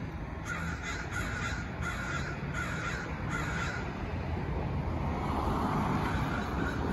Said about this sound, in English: I think these crows are waking up.